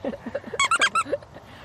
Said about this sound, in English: what she really wants is a little furry thing that squeaks